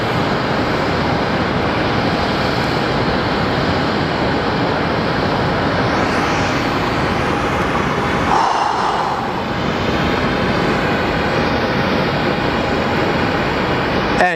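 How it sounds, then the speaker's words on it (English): FedEx Boeing 777 coming in to land, with a loud, steady roar of jet engines that dominates throughout and rises and swells briefly partway through. "No, we have a FedEx 777 coming in."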